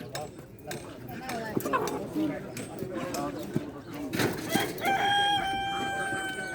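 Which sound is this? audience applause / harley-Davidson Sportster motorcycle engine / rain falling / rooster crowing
rooster crowing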